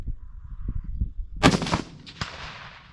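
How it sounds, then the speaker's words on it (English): A single sharp .270 rifle shot fired prone at a 4-inch steel target 200 yards away, a loud crack followed by a short rolling echo and a second faint report, with light outdoor background noise before it. "I'm set up here with a 270 at 200 yards. We're going to smack it from here."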